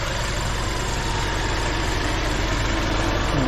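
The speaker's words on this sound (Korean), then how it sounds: "자, 이게 엔진 소리고요." A gasoline Mercedes-Benz GLA 220 engine idles steadily at close range, a continuous low, even hum with a faint rhythmic pulse and no talking.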